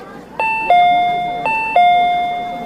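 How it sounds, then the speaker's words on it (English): A food-stall bell gives two clear two-tone ding-dong chimes, loud and close, each high note falling to a lower sustained tone that slowly rings out. "a bell from one of the stalls rang"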